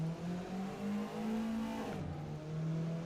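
A car engine in a video game drones steadily at high revs with a steady rising pitch, shifts gear near the midpoint, and climbs again, loud and continuous with no other sounds.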